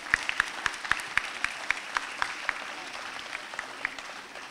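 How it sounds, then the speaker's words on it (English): An audience applauds for several New York State assemblymen at an animal advocacy day gathering; a mid-sized crowd claps with distinct loud individual claps standing out over a steady patter. "So give them a round of applause."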